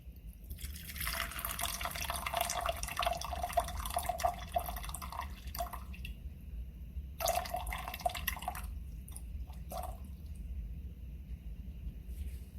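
Distilled water poured into a cosmetic eye serum mix with hyaluronic acid powder, heard as two bursts of splashing, trickling liquid, a long pour and then a shorter top-up after a pause.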